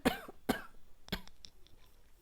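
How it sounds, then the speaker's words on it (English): Two sharp coughs close together, followed by a softer cough and a few quieter throat sounds. "Excuse my cough."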